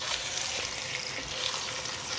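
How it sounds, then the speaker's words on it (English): Loud, steady sizzling of beef roast frying in a hot pan, a dense crackling hiss that continues without pause. "Nice sizzle."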